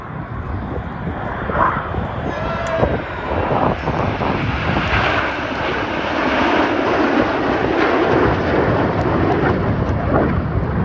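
A Red Arrows display jet at the Duxford summer airshow rolls overhead, its engine a broad roaring rush that rises and swells across the flypast, with a commentator's voice partly audible underneath.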